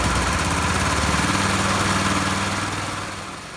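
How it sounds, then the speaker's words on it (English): A 420cc go-kart engine fitted with a supercharger idles roughly on an old tune, a loud, close, uneven chugging drone that holds steady and then eases slightly toward the end. "Keep in mind the engine's running on the previous tune and isn't set up for the supercharger yet, so it's running a little rough"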